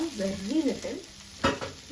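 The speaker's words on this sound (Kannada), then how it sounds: "ಇಷ್ಟೇ ಮಸಾಲದಲ್ಲಿ ಇದನ್ನ ಫ್ರೈ ಮಾಡ್ತೀನಿ" Ivy gourd stir-fried in a light masala in a pan, a soft crackle under scraping stir strokes and a sharper clatter near the end, with a faint wordless voice at the start.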